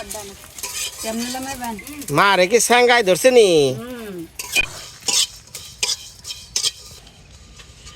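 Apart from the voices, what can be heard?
cumin being fried and stirred in pan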